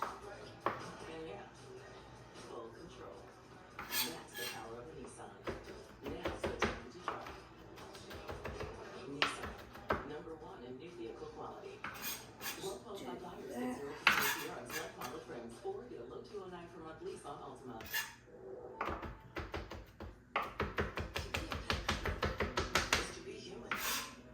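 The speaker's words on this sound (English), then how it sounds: "I have to like chop them up here for a second" Knife chopping ingredients for a seafood paella on a cutting board, a run of uneven taps that thickens into a quick, steady burst near the end, with kitchen clatter and speech in the background.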